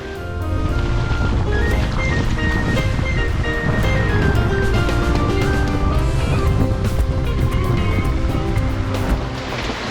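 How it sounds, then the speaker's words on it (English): A sailboat under sail moving through open water, with a steady, loud wash of water and wind noise rushing past throughout, no voices. "This is nice sailing now."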